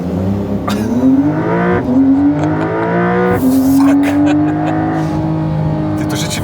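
A Ferrari Stradale sports car roars off in a launch-control start at full throttle, engine pitch climbing steeply and dropping briefly at each quick gear change, loud and close.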